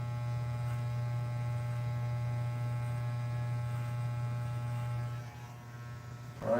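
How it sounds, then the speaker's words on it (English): An electric hair trimmer buzzes steadily and close up with a strong constant hum for about five seconds, then cuts off and gives way to faint handling noise. "So you want to use a trimmer and whatnot."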